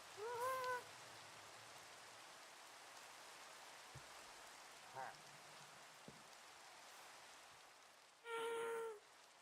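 Steady rain hisses evenly across a Minecraft world, with faint game tones and brief blips over it and a louder chime near the end.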